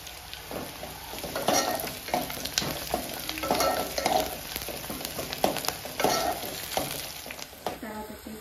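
Cashews and whole spices for bagara rice sizzling in a pan, a close, busy crackle with repeated stirring scrapes and light utensil clinks, and no one speaking.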